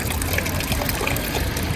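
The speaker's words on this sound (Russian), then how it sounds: "По всему городу, в каждом городке есть вот такие вот источники воды" Cold mountain spring water pours steadily from a public town fountain in the Spanish Pyrenees, a close, loud, continuous splashing flow with no voices.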